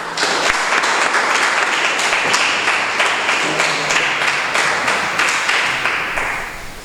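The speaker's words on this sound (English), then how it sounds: "And we give our keynote speaker another round of applause" A crowd at a scholarship fund awards ceremony gives a keynote speaker a sustained round of applause, steady and fairly loud, trailing off slightly near the end.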